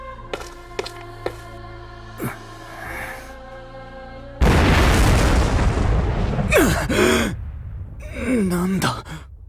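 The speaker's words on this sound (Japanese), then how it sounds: "リムジンが爆発したぞ！" A limousine explodes in the Code Geass Lost Stories video game: a sudden, loud, broad blast follows quiet music and rumbles on for several seconds, while voiced gasps and exclamations rise over it.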